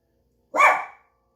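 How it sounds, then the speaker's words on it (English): A dog named Teddy lets out a single loud, close bark, sharp at the start and trailing off quickly into silence. "Teddy's barking his full head off"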